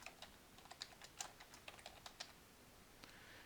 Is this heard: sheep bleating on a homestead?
no